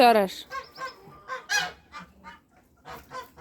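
A gander penned apart from his geese in the rain lets out a loud opening scream, then a string of shorter honks that gradually soften.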